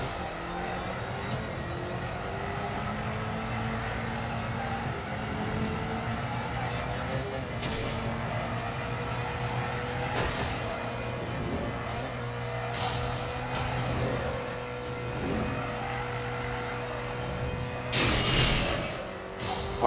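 A race car roars through a Need for Speed No Limits race after a launch and nitro rush, the engine droning steadily with gear-shift pitch sweeps, sharp whooshes and tire squeals, ending in a louder burst.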